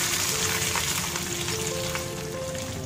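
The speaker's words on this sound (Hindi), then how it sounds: "अब हम ये तड़का डालेंगे हमारे कर्ड राइस पर।" Hot oil tempering poured onto curd rice sizzles and crackles loudly and close up, a continuous frying hiss with light stirring, no voices.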